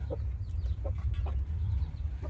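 Several short hen clucks, spaced irregularly, over a steady low rumble of background noise in a farmyard setting.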